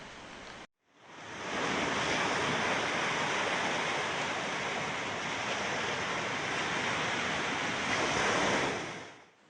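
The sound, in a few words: waves at Pasar Bawah beach facing the Indian Ocean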